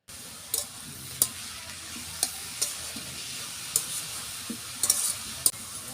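Chopped chickpea greens frying in a pan, a soft steady sizzle broken by sharp clicks and scrapes of stirring at irregular intervals.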